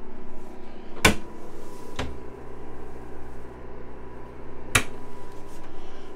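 Pantry cupboard doors in a 2023 Coachmen Leprechaun 260DS Class C motorhome open and shut in three sharp, close knocks spaced apart, over a constant low hum.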